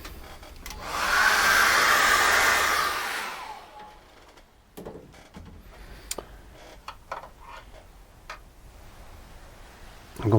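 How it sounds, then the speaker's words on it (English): A hairdryer blows to dry acrylic paint, a loud steady whirring rush lasting about three seconds before switching off, followed by quiet clicks and small handling taps. "What I need to do now is dry that with a hairdryer."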